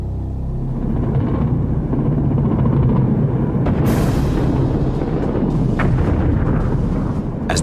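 Heavy bombing explosions over Baghdad during the Gulf War, a continuous loud rumbling roar with deep booming blasts and sharper cracks building and overlapping throughout, no voices.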